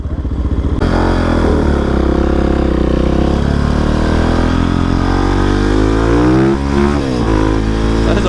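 A Husqvarna 701 motorcycle engine revving hard up close, a loud continuous roar that holds steady and dips briefly near the end as the throttle changes.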